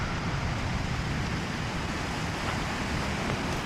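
Waterfall beside an old mill in Ireland, a steady broadband roar of falling water holding evenly throughout, fairly close and loud with no voices.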